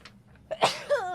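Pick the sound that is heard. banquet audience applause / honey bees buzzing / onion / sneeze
sneeze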